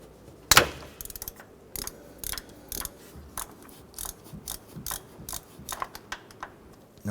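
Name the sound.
10mm socket and ratchet removing a bolt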